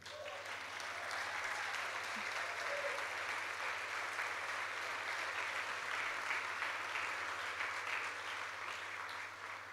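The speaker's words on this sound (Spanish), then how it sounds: "Sí, aplauso." Sustained applause from a church congregation at a convention workshop, a steady wash of clapping holding at even strength for about ten seconds with no talking.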